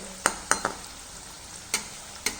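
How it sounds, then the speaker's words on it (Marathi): A jowar-flour breakfast frying in oil on a pan over medium heat, a soft continuous sizzle broken by five sharp spatula knocks and scrapes against the pan, close and clear. "चांगलं तळून घ्यायचं मध्यम गॅसवरती"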